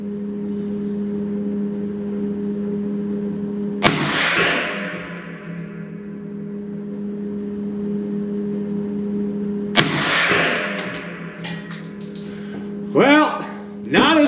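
Two sharp gunshots from a 16-inch AR9 carbine fired at a 100-yard range, each a loud crack with a trailing echo, spaced several seconds apart over a steady low hum, with a couple of fainter knocks near the end.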